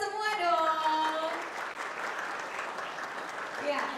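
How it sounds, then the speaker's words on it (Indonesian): A high school audience at SMA Negeri 3 Palembang claps at a moderate level. The applause swells early and then holds as a steady patter, with a voice heard over the start. "Tepuk tangan buat kita semua dong."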